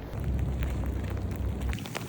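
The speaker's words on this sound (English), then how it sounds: "Now it's really starting to rain." Steady broadband hiss of rain falling outdoors in a forest, recorded on an iPhone 16 Pro Max internal mic, fairly loud and even, with faint gusty rumble underneath and no voices.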